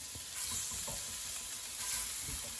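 Pork filets sear in olive oil in a hot cast iron pan, giving a steady close sizzle and hiss that runs throughout, with faint low clanks mixed in.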